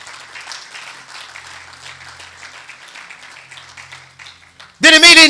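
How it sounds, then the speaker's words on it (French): A church congregation breaks into loud applause at the close, after a stretch of quiet preaching-hall ambience with faint voices. "Acclame pour le Seigneur."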